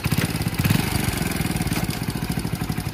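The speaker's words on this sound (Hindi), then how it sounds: "जैसे आपका बाइक का इंजन का आवाज़ धीरे होना शुरू हो जाएगा" A motorcycle engine idles steadily up close, a fast, even putter with a slight wavering roughness throughout.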